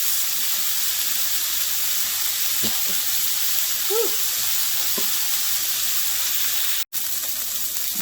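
Venison Salisbury steaks sear in a hot pan with a steady, close, loud sizzle that holds unbroken, with a few faint scrapes and bubbling pops and one brief dropout near the end.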